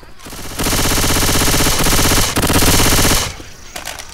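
Rapid automatic gunfire in the zombie shooter Left 4 Dead 2, a loud, dense burst that runs nearly three seconds with a brief dip in the middle, then cuts off into quieter game sounds.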